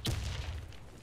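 A grenade blast in the Xbox One shooter Warface: one sharp, loud boom with a low rumbling tail that fades over about a second, heard alone.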